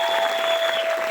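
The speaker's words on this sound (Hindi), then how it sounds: "ताली जोर से बजा दीजिए।" Audience applause at a motivational business seminar, a steady dense patter of clapping filling the whole moment, close and fairly loud with no talk over it.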